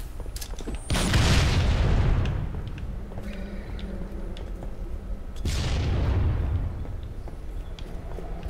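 Two heavy booming blasts about four seconds apart in the Halo video game, each a loud rumbling burst that slowly fades, with faint scattered shots and clicks between them.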